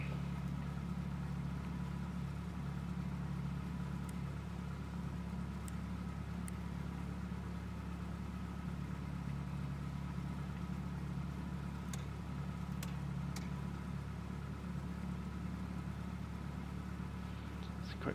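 A steady, unbroken engine drone from a Cessna 172 idling at about 1000 RPM in a flight simulator, holding an even low hum throughout with a couple of faint ticks on top.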